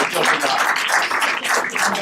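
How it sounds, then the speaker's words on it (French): Audience applause at a French civic gathering, a dense, steady wash of many hands clapping that holds evenly for about two seconds, fairly close and loud. "je crois qu'on peut applaudir"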